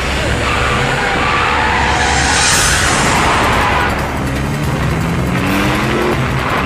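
A car pulls away fast with a loud, surging engine roar that swells, dips briefly and then rises again as it accelerates close by.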